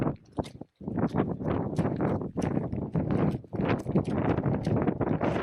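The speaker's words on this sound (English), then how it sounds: "Windy!" Strong gusts buffet the microphone on an exposed hilltop at Fairfield in the Lake District, coming in loud, uneven bursts with brief lulls between them.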